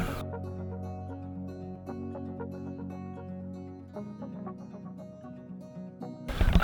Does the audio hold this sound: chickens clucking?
yes